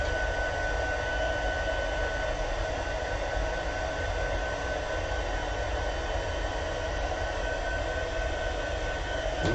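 A heat gun blows hot air for heat embossing, a loud, steady, unbroken whoosh of blowing air held close for the whole stretch with no other sounds.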